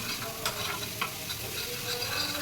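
A spiced mixture with turmeric frying in a pan over medium-low heat: a continuous close sizzle broken by repeated scraping strokes of a stirring spoon, with no voices.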